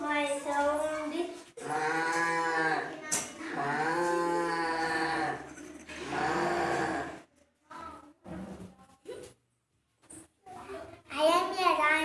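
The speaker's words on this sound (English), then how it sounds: "I am a cow. My sound is." A cow moos in long, drawn-out lowing calls, fairly loud and close, with short spoken phrases and pauses between them.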